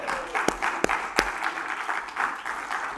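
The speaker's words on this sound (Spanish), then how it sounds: "Todos los felices con Cristo, denle palmas al Señor." A church congregation at a Spanish-language service applauds, with a few sharp, distinct claps leading into a steady, close ripple of clapping from the crowd.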